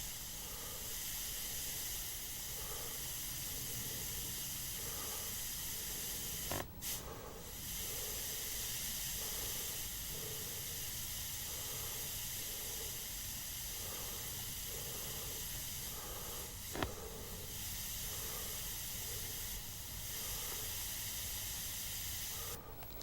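Micro airbrush spraying paint for fine detail work, a steady close hiss that runs almost unbroken, with a few brief louder bursts and faint ticking in the background.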